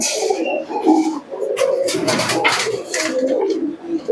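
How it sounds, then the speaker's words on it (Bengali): Black-eyed Giribaz pigeons cooing in a cage, loud close overlapping coos with wing rustles and busy background noise. "গিরিবাজ কবুতর দুটোই কালো চোখের কবুতর আছে"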